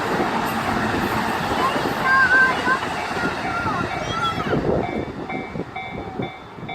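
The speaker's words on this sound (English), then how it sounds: "Looks like there's more trains coming." Trains passing at a railroad crossing, with an express train racing alongside another: a loud, sustained rolling rumble with squealing metallic tones, easing slightly toward the end, while voices are heard in the background.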